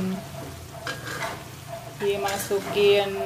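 Ground spice paste is stir-fried in a pan for an eel and tofu dish, giving a low sizzle with scattered stirring scrapes and clinks of a utensil on the pan, fairly quiet and close.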